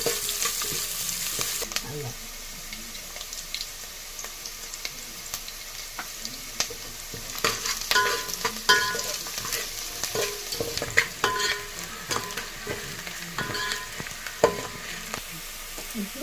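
Tempering sizzling and stirred in a pan with curry leaves and garlic, a steady frying crackle with clatters of a spoon against the pan, moderately loud and close, with no talking.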